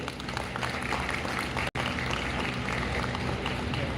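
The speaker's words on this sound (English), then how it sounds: "we request you to please join us in giving a huge round of applause as we welcome our" At a university conference inauguration ceremony, an audience gives steady, dense applause as dignitaries are welcomed onto the dais. The clapping is loud and continuous, with one brief dropout partway through.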